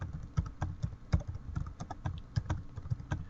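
A search term being typed on a computer keyboard, a brisk, steady run of close, crisp key clicks with no pauses, and nobody speaking.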